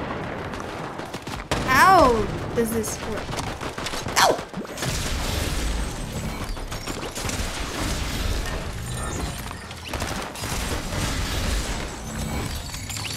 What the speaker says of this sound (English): there's gunshots outside